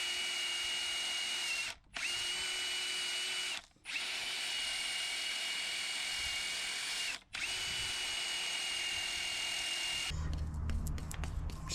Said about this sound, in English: Wire brush this. Get any of the corrosion off.